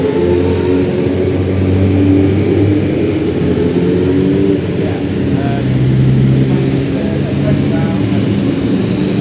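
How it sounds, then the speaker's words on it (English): A small KTM motorbike revs and accelerates past, its engine note rising and falling in loud sweeping tones, with people talking nearby. "Another little KTM."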